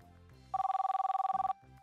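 A telephone bell rings with an incoming call in a home, giving one rapid trilling burst about a second long, loud and close, with background music before and after.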